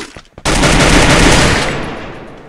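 A sudden loud burst of automatic gunfire in the battle-royale game Free Fire, a dense sustained volley erupting after a brief quiet moment and slowly fading with no talk.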